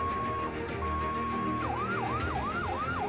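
An ambulance siren sounds during a disaster safety simulation, first a steady held tone, then a fast rising and falling wail repeating about every half second, moderately distant under a busy background murmur.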